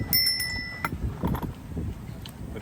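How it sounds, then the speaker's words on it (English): A small bell that doubles as an incense burner rings a few quick bright strikes, then fades under outdoor background noise and distant activity on a beach in Cotonou, Benin. "This is a bell,"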